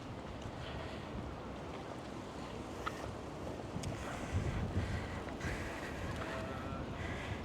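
Blustery wind buffets the microphone along the seawall path at Sunset Beach, a constant rumbling roar with faint water and surf behind it and a few louder gusts.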